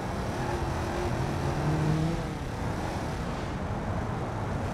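Simulated car engine in BeamNG.Drive roaring steadily as it accelerates, with a rising tonal whine over dense low rumble, loud and continuous, easing slightly toward the end.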